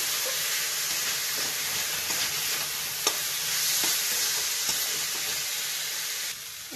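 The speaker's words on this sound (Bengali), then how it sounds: "ডালটা ভেজে নিয়েছি।" Moong dal fries in a pan for a cabbage and fish-head dal, making a continuous close sizzle with a few small clicks of stirring.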